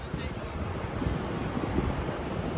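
Sea waves wash steadily on a beach, a continuous rushing surf mixed with wind buffeting the microphone, while people chat nearby.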